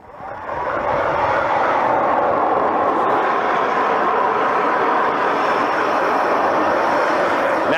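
A StrikeMaster Lite Flight 40-volt battery ice auger with an 8-inch bit drills through ice, rising in the first second to a loud, steady whirring roar that holds close and unbroken, with no voices.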